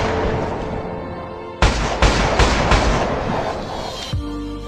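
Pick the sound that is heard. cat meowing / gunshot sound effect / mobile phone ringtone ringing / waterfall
gunshot sound effect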